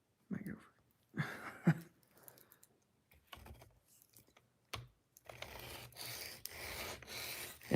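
A kitchen knife is drawn back and forth across a diamond sharpening stone in bursts of gritty rasping strokes, close up, with pauses between passes that grow longer and steadier toward the end.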